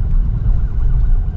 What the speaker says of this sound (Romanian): poliție, o ambulanță,